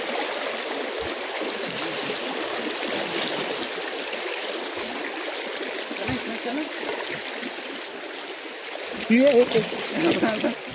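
A fast-flowing stream rushes at night in a continuous, close, loud wash of water, with a few splashes near the end and people's voices faintly mixed in.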